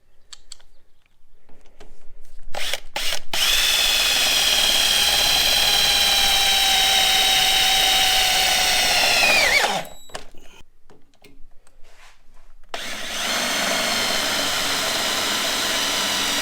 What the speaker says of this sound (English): I'm going to run Tech screws through